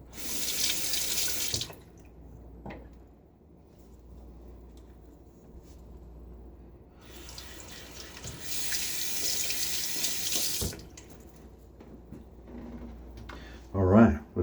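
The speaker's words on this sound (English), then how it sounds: "All right, let's rinse." A water tap runs into a sink while a shaving razor, a Gillette Aristocrat Jr, is rinsed. The water gushes in two loud spells with a quieter gap between them, and a short voice comes in at the end.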